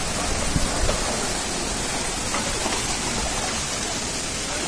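A big waterfall in a forest pours with a steady, dense roar of falling water, a loud and unbroken wash of noise with no voices.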